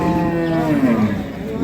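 A cow lets out a long, loud, close moo at the Ambari cattle market in Dinajpur, where Sahiwal, Sindhi and local dairy cows are sold.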